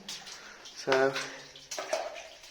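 Water sloshes and splashes with each step of someone wading through an underground pipe tunnel, in echoey bursts, while someone speaks briefly over it.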